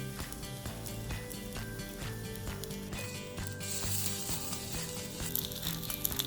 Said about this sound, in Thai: ผมทำการเสียด้านข้างของเนื้อเพื่อให้เนื้อมันสุกนะครับผม